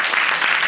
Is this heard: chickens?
no